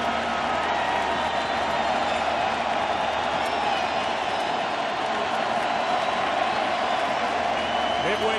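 Steady roar of a packed baseball stadium crowd at the 2014 World Series Game 6, Giants vs Royals in Kansas City, cheering continuously with a broadcaster talking over it.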